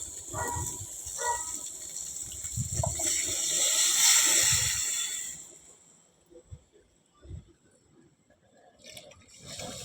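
Tamarind water mixed with masala powder pours and splashes into a curry for several seconds, swelling then tapering off, followed by a few soft clinks and handling sounds.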